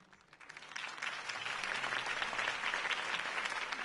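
A crowd applauds in a video game, the clapping swelling quickly from soft to a sustained, dense roar that stays steady throughout.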